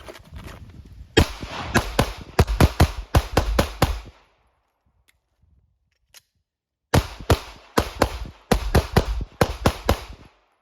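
Rapid bursts of handgun shots fired during crossbody bag draw practice: a string of sharp loud reports, a pause of near silence with faint handling, then a second quick string of shots.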